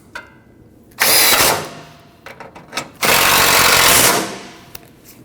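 A power tool drives and tightens the bolts on the radiator bracket of a 2012-2021 Nissan NV2500 5.6L V8 in two loud close bursts, with brief clicks and handling noises between them.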